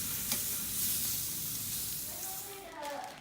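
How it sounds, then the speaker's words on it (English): Oiled, salted meat sizzles on a hot grill, a steady close hiss with soft crackle running throughout, and a few faint tonal sounds rise near the end. "I put a little oil on the meat so it doesn't stick to the hot grill"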